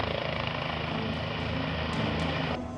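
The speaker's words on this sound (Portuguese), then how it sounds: "O helicóptero desce e não tem nenhum dano." A helicopter descending to land at the Agrishow agricultural fair, its engine and rotor making a steady, loud, close whir that holds throughout.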